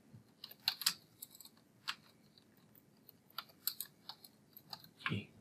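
Irregular bursts of keystrokes tap out text on a computer keyboard, sharp close clicks in short clusters separated by pauses, ending with a slightly heavier clatter.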